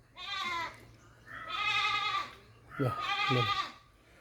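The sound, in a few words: goat bleating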